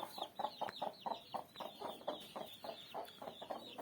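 A hen clucks steadily in a repeated rhythm, with thin high peeping from chicks running continuously above it, close by.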